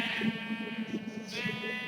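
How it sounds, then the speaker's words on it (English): A sheep in the Minecraft video game bleats, a wavering nasal cry heard twice in quick succession, fairly faint and alone. "This is the rainbow sheep."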